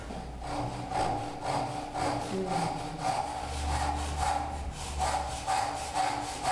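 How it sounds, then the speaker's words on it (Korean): A hand saw cuts a clamped wooden piece for traditional Korean joinery, giving steady rhythmic rasping strokes about twice per second, each stroke a near, moderately quiet scrape of the teeth through wood. "부재를 고정하고 톱질을 하는 과정입니다."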